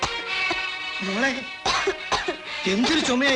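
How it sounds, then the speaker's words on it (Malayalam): A woman coughs in harsh, repeated bursts in a Malayalam film scene, close and strained, with short pauses between fits and a brief pained vocal sound in between. "എന്തൊരു ചുമയായത്?"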